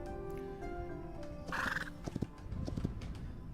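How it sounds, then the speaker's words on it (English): A horse whinnies in the Hytale video game, a bright neigh rising at mid-clip, followed by a few soft hoof clops over steady background game music. "So he's got a proper horse now."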